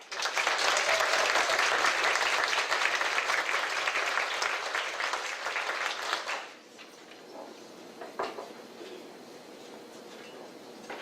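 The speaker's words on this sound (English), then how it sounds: "let's give these incredible entrepreneurs a round of applause" An audience at a women entrepreneurs panel claps loudly for about six seconds, then the applause cuts off abruptly, leaving a quiet room with a few faint knocks.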